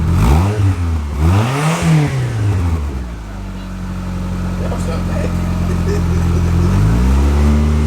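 A Mitsubishi Galant engine fitted with an Eclipse exhaust, silencer removed, drones loudly and close, then climbs into a deeper rev near the end, with someone talking over the opening seconds.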